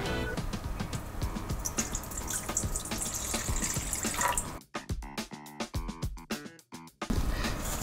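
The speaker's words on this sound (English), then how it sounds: "I'm going to dissolve the salt into the water in a large bowl." Hands swish and stir water in a large bowl to dissolve salt for pizza dough, a steady close sloshing that breaks into separate splashes and drips near the end.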